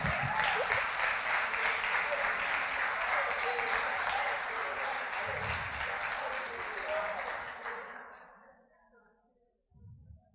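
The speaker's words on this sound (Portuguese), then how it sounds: "Quer aplaudir para a vida de Daniel?" Audience applause at a church gathering, loud and sustained broadband clapping with a little voice mixed in, holding for about eight seconds before fading out, then a brief return of sound at the end.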